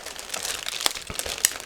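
Resealable plastic bag from a 1/48 Eduard P-51D Mustang model kit being opened, with close crinkling and rustling broken by a few sharp crackles and snaps.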